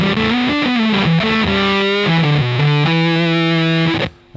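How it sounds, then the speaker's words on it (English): A heavily distorted, buzzy square-wave guitar tone from a Data Corrupter pedal plays a run of single notes, loud and up close, ending abruptly. "So what you're hearing right now is just the square wave"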